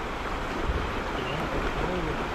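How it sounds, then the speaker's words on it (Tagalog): Strong river current rushing over rocks, a loud steady roar of water filling the scene without a break. "Lakas ng tubig ngayon."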